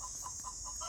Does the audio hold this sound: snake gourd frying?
no